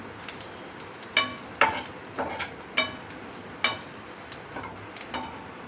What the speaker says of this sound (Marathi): आपण खोबरं खसखस आणि कोथंबीर छान भाजून देऊ